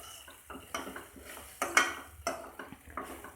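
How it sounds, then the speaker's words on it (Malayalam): A spoon scrapes and clinks against a pan while stirring beetroot fry, giving a run of irregular close metallic knocks and scrapes with a faint background hum and no talking. "ഇതുപോലെ ഇടയ്ക്കൊന്ന് തുറന്ന് നോക്കി ഇളക്കി കൊടുത്തുകൊണ്ടിരിക്കുക"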